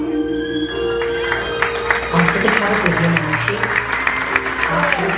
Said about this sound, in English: Ladies and gentlemen, a tremendous round of applause for Mr. and Mrs. Eric Guminale.